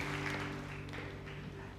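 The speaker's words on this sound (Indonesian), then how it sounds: "Berikan tepuk tangan yang meriah." A church congregation applauding during a sermon, dense steady clapping filling the space, with a sustained organ or keyboard chord underneath.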